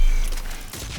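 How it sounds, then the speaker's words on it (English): A Chakram launcher in Mass Effect 3 firing an exploding disc: a single loud, short mechanical burst with a rattling, crackling tail that fades within about a second. "But it does actually fire a disc. That explodes after a short amount of time."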